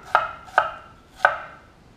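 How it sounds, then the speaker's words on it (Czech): Knife slicing an onion into thin slices on a cutting board, three crisp, sharp chops at an uneven pace, close and clear with no talking. "Cibuli si nařežu na tenký plátky."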